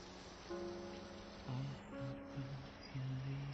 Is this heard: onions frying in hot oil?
no